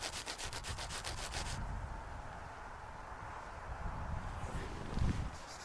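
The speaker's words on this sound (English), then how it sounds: "she does a spear point by rubbing a stick on ice" A stick is rubbed on ice to shape a spear point inside a snow shelter, giving a steady, close abrasive scraping, with a brief rapid ticking at the start and no talking.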